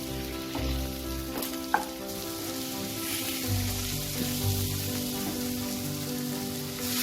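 Water poured into a pan of frying potatoes and spices for a fish curry, giving a steady close sizzle and bubbling hiss that holds through the whole stretch, with a few clinks of stirring.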